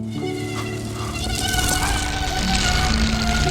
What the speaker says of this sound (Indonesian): seekor nyamuk yang berlalu lalang melewati jendela